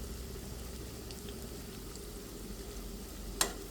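Lentil and pumpkin leaf chops frying in hot oil in a home kitchen, a faint, steady low sizzle running throughout, with one brief sharp clink near the end.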